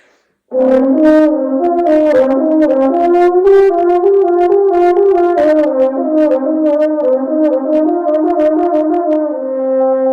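A solo French horn, all open with no valves, slurs smoothly upward through a series of notes, climbing higher and sustaining, played close and strong with no talking.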